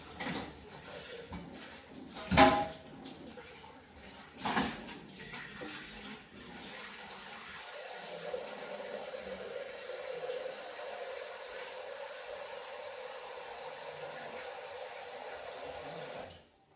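Water pours into a Thermomix mixing bowl for rinsing, a soft continuous trickling flow that settles into a steady low stream after a couple of sharp knocks early on.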